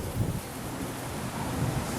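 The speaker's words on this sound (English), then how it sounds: "it's really windy here today" Wind gusts buffet the microphone outdoors during a flag-pole memorial wreath setup, a broad, continuous roar with slight swells and no talk.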